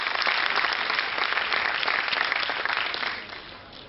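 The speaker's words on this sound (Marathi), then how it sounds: "परत एकदा जोरात टाळ्या." An audience at an education talk claps loudly and continuously, a dense wash of applause that eases off toward the end.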